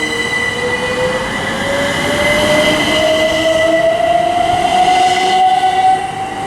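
Great Western Railway unit 387146 departing Newbury for Reading, a loud nearby roar of wheels on track with a rising electric motor whine as it accelerates away, steady and unaccompanied by speech.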